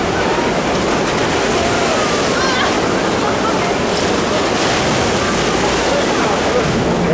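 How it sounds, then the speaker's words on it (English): Rushing, splashing water of a log flume river ride at Botton's Pleasure Beach amusement park in Skegness, a continuous loud broadband wash like a waterfall, with faint voices in the background. "let's go on the river adventure just here, the log flume"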